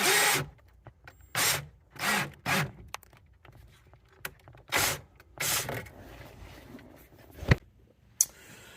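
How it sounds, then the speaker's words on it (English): A power drill bores a hole for a rocker switch in a car, running in short, loud bursts of a second or so each, separated by pauses and a couple of sharp clicks. "let's figure out what size it is and get a hole drilled"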